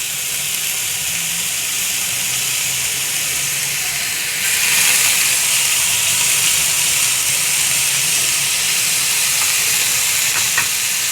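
Beef rolls filled with green masala and pinned with toothpicks fry in hot oil, a steady broad sizzle and hiss that swells louder midway and holds without any talk.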